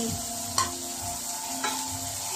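Eggs being stirred in a hot pan for scrambled eggs, with tomatoes sautéed alongside, giving a steady sizzle and two brief scraping strokes of the utensil against the pan.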